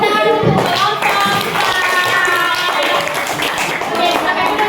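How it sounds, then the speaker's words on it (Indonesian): A classroom of fifth-grade children clapping for a group in a school lesson, a dense burst of many hands applauding continuously at close range, with children's voices mixed in. "Beri tepuk tangan untuk kelompok"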